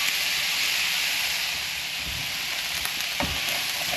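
Fish sauce hitting a hot pan of chicken stir fry gives a steady, bright sizzle and hiss, close and continuous, with a few soft stirring bumps.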